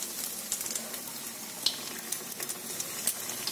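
Prawn fritter batter frying in hot oil in a wok, a continuous soft sizzle broken by small crackling pops and spatters, close and fairly quiet, no voices.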